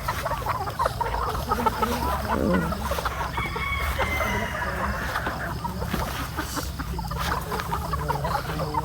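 Gamefowl stags on a game farm crow and cluck continuously, several birds calling over one another at close range with steady outdoor ambience.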